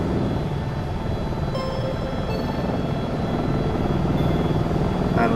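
AS350 B3+ helicopter in a flight simulator game drones steadily near an airport, a loud continuous engine and rotor roar with a throbbing low pulse and no voices.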